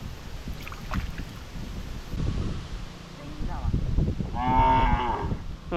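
Cattle low near a riverside where a cast net is being thrown, a few drawn-out moos rising late in the stretch over outdoor background noise, with voices talking nearby.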